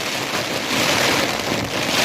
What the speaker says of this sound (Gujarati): હજી તો 65 મિનિટ ગયો ખાલી આ વરસાદ ચાલુ થયો એની